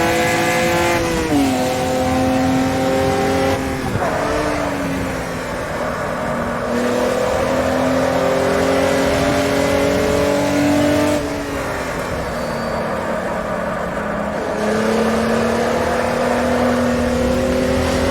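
A high-performance race car engine roars steadily in a racing simulator, its pitch climbing through gears, dropping sharply on downshifts into a corner, then rising again on the exit, loud and continuous with no voices.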